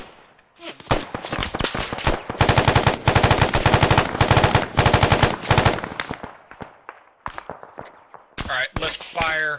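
Sustained bursts of automatic gunfire from a squad training exercise, loud and close, with rapid rattling volleys and scattered single shots before a lull and a final few shots.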